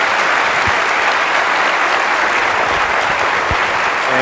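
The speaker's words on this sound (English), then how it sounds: "Can we give a round of applause to everybody for participating?" A debate audience gives a steady, dense round of applause that fills the whole stretch, loud and close, with no talking over it.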